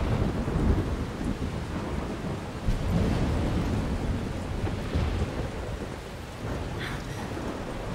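Steady heavy rain with rolling thunder in the Life Is Strange video game, a loud continuous storm wash with low rumbles throughout and no voices.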